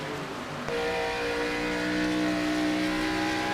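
NASCAR race cars lapping Charlotte Motor Speedway's quad oval in an Australian NASCAR Championship round, a steady loud engine drone with sustained tonal whine that swells slightly after the opening moment, no talk.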